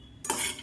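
A brief metallic scrape of a spatula stirring about a quarter kilo of groundnuts as they roast in a pan on a gas flame, close and alone.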